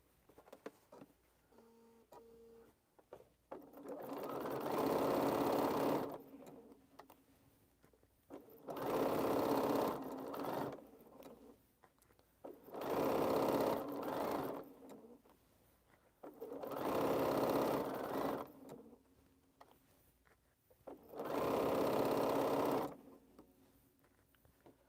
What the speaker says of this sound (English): we can go ahead and sew and make sure everything is down